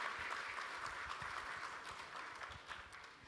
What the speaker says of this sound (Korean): 오늘 함께해 주신 내빈 여러분께 여러분 다시 한번 큰 박수 보내주시기 바랍니다.